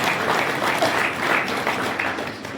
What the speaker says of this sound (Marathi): त्यांच्यासाठी पण जोरदार टाळ्या वाजवा